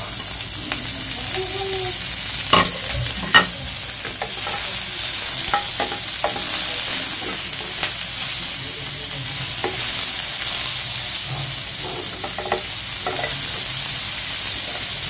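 Tomatoes, onions and other vegetables cook on a grill pan that earlier held beef steak, giving a steady sizzle with intermittent stirring and scraping clicks, close and continuous with no talking.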